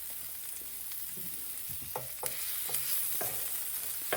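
Parsley butter melting and sizzling in a pan for a Spanish omelette, with a soft steady fry and a few clinks and scrapes of a utensil against the pan.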